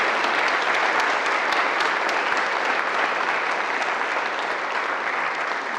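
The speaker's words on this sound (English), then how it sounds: "I want us to give our veterans a round of applause one more time for joining us today." Sustained applause from an audience honoring veterans at a campus event, a dense, even wash of clapping that holds steady and close for several seconds without pause.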